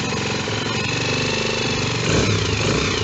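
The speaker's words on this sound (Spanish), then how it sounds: "Ahora el motor está frío, por eso funciona desparejo." A cold motorcycle engine runs loud and close with a rough, uneven, chattering idle, then rises briefly in pitch as it is revved, the firing staying choppy throughout.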